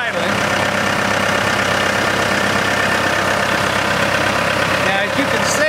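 A 52 hp Isuzu diesel engine on a Judson Genesis DXT truckmount idles with a loud, close, steady drone that holds constant throughout.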